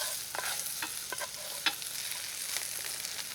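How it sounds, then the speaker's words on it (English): Softened potatoes and wilted cabbage seasoned with Old Bay get stirred in a pan, soft scrapes and taps over a quiet, low sizzle. "Give this a couple more stirs."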